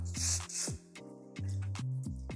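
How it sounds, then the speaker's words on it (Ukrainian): Hair wax spray from an aerosol can, two short hissing bursts near the start over background music with a low steady hum. "Теж трошечки додамо е, спрей воск."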